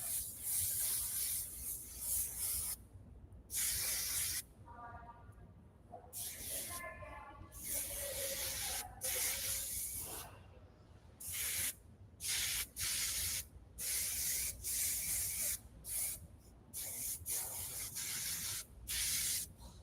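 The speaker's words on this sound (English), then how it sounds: "I use a lot of hairspray." Hairspray hisses from an aerosol can onto styled hair in repeated bursts of varying length, some brief and some sustained, with short quiet gaps between them and faint talk at moments.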